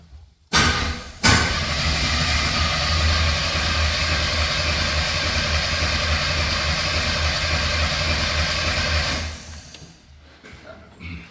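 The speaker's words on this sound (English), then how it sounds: "crank this thing over, try to clear it out" Engine of an Ultimate 800 rock crawler cranking over on its first start-up attempt with the fuel pump unplugged, a loud steady starter-driven churn lasting about nine seconds before stopping, no talk.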